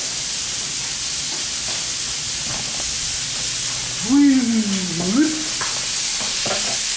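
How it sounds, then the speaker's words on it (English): Meat sears in a hot pan with a loud, constant close-up sizzle and hiss. A voice speaks briefly over it partway through. "searing the outside. So that all the juices stay inside."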